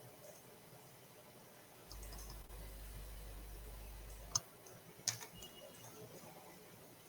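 Computer mouse clicks during a JavaScript coding session, a few sharp isolated clicks over a low steady hum, close and fairly quiet, with no talking.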